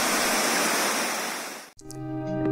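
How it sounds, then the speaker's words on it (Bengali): A forest river near Tinchuley, Darjeeling, rushes loudly in a dense, steady wash of water, then cuts off abruptly to faint tonal sounds. "নদীর কুলকুল শব্দ আর ঝিঝিপোকার ডাকে তৈরি হয়েছে এক মায়াবী পরিবেশ।"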